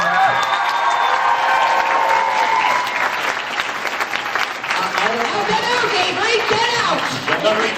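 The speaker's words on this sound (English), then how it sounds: "Let's have a big round of applause for Avery." Loud, steady clapping and some cheering from an audience at a script reading, with crowd chatter and voices rising over it in the second half.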